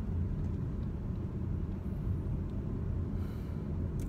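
A car driving across the Bay Bridge in San Francisco, heard from inside as a steady, loud low road rumble and engine drone that holds evenly throughout with no talk.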